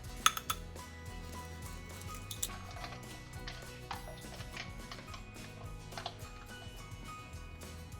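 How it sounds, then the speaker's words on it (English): An egg and other wet ingredients for Irish soda bread whisked in a bowl, giving soft, faint, repetitive clinks and ticks of the whisk against the bowl over a low background hum. "now we're gonna whisk together the wet ingredients"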